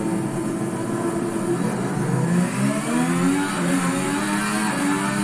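The high-pitched engine of a Ferrari SF70H Formula 1 car in the Assetto Corsa racing game, revving loudly and steadily with rising and falling pitch as the throttle is worked, with no talk over it.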